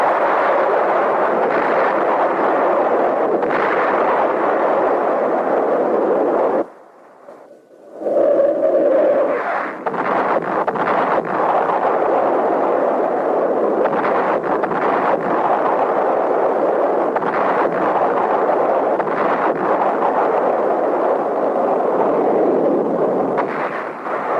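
B-52 bombing runs during the Khe Sanh air campaign in Vietnam, heard as a continuous loud rumble of massed explosions that drops away briefly near the middle and then resumes at full strength.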